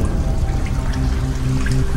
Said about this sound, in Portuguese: A água que flui através desse antigo canal ajudará o Dr. Crapper a recriar o sistema de aquedutos da antiga Roma.